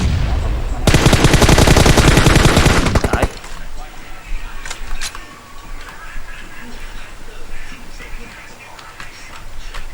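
Video game gunfire as a player shoots through smoke: a dense, loud burst of rapid automatic fire for about two seconds, then scattered distant shots and game ambience with players talking.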